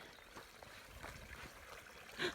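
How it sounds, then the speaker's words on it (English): A mountain creek runs with water, a soft steady trickle and gurgle heard faintly at a distance, with a brief brighter splash or chirp near the end. "Let's walk down and see if there's water in the creek. Ah, there is water."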